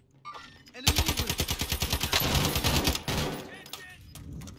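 Rapid gunfire from a combat shotgun in the Warzone video game, a dense loud string of shots lasting about two seconds before tailing off, with voices talking over the fight.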